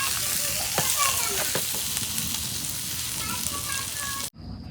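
Rohu and other fish frying in oil in a home kitchen, a continuous close sizzle and crackle with a few scattered pops, cut off abruptly near the end.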